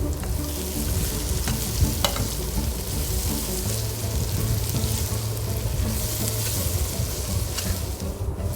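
Onions frying in a pan for a Warangal-style tamarind-leaf curry, a steady, close sizzle running throughout with occasional clicks of stirring, alone without talk.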